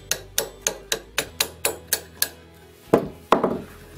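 A hammer gently taps the front sight off an AR-15 gas piston rifle barrel, giving about eight evenly spaced light metallic taps followed by two heavier strikes after a short pause, close and distinct.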